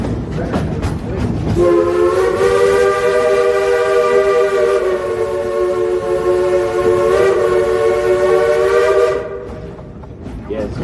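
A long, loud steam locomotive whistle from Frisco Silver Dollar Line No. 504 sounds continuously for several seconds amid rumbling train noise, then cuts off, leaving the chugging rail sounds.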